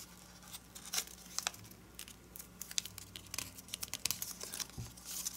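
Paper is creased and folded by hand for an origami dragon, with soft crinkles, taps and crisp rustling pops in an irregular rhythm, close and quiet with no talking.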